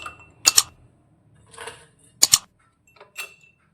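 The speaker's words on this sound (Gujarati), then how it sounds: "હવે ઠંડુ આપણું શરબત રહે તેના માટે અત્યારે તેની અંદર આપણે આઈસ ક્યુબ ઉમેરીશું" Ice cubes dropped into a glass of jeera syrup clink sharply in two quick pairs, followed by softer rattles and taps as they settle, close and clear with no talk.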